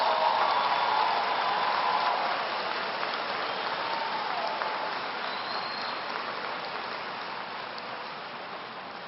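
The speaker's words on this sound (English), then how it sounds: "Please give them a wonderful round of applause." A crowd applauds at a 2014 college graduation ceremony, a broad, even wash of clapping that sounds somewhat distant and gradually fades over several seconds.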